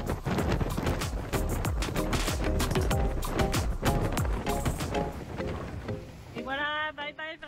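Water rushes and slaps rhythmically against the hull of a racing sailboat doing 25 to 30 knots in the Vendée Globe, with wind roar throughout and a voice breaking in near the end.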